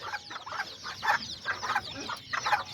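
Hens and roosters cluck in repeated bursts close by, a busy chattering of several chickens with short pauses between calls.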